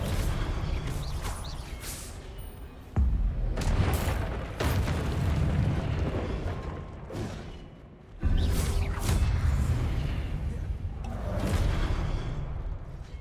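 Fiery spell explosions in Hogwarts Legacy burst out as loud booming blasts with whooshes, two heavy impacts landing a few seconds apart amid continuous crackling combat noise.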